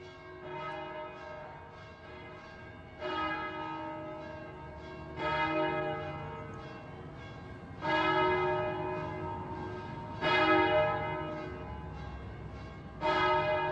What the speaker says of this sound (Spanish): En este vital centro palmesano resuenan las campanas marcando los días.